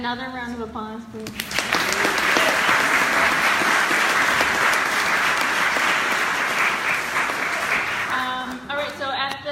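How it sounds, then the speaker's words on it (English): A speaker's voice gives way to a big round of clapping from a crowd, loud and continuous for several seconds, before talking resumes at the end. "Another round of applause, please."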